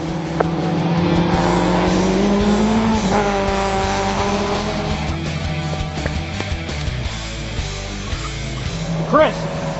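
Touring cars racing on a wet track, with loud engines revving and shifting through several gear changes, a car passing close and a brief tire squeal near the end, while a voice talks over the radio.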